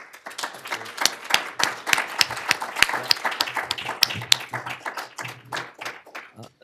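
An audience claps to welcome a speaker named Rami at a talk on cultural activism in Palestine/Israel, the applause steady and dense from a room of many hands, with no voices over it.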